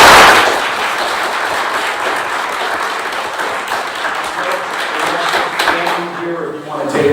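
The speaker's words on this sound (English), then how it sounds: "We have a round of applause." Applause from the audience at a board of education meeting, a dense, steady wash of many hands clapping for about seven seconds, loud and continuous before tapering slightly at the end.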